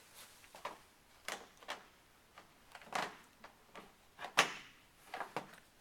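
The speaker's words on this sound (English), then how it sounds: "So Rach, now we can go to the addition of the two access doors" Two access doors are slid up, in and down into place, giving a series of sharp close clacks and scraping knocks spaced irregularly over several seconds, with no talking.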